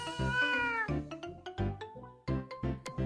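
A cat meows repeatedly up close, a long drawn-out mew followed by several shorter plaintive cries in quick succession, loud and without any talking.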